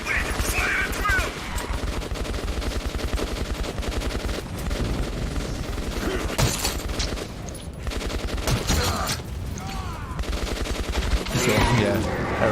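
A firefight in Metro 2033 Redux, with heavy automatic gunfire pouring out in long, loud, dense bursts for the whole stretch, while voices speak briefly underneath.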